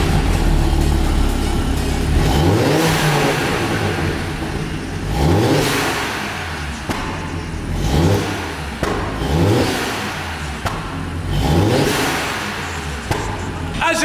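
An Audi TT RS Stage 2 engine with a new exhaust roars through repeated revs, rising and falling in pitch several times, loud and close with a deep exhaust note.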